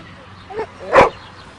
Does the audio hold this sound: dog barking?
yes